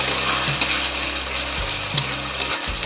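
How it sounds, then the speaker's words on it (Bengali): Ground spices sizzle steadily in hot oil with potatoes while a fish-head cabbage curry made with katla fish head cooks, a continuous close frying hiss with faint stirring scrapes. "মশলাটা এখন কষিয়ে দেবো"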